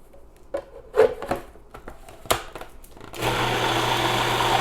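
Black bean brownie batter with maple syrup being mixed in a blender: some clunks and handling knocks, then the motor kicks in with a loud, steady whir that continues to the end.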